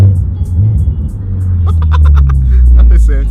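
A stock Honda Civic Type R exhaust rumbles low and loud at close range, swelling as it revs, while a person talks briefly over it.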